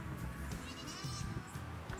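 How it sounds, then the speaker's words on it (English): Goats bleat in a barn or pen, several overlapping calls repeating close by over a steady backdrop of farm noise. "So I'm gonna bring the goats in here and put them up."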